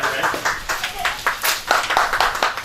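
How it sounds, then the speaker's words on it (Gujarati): Audience clapping at a lucky draw event at a mobile phone shop, with irregular bursts of hand claps, fairly close and moderately loud, and some voices mixed in. "જોરદાર તાળીઓના ગડગડાટથી વધાવવાના છે"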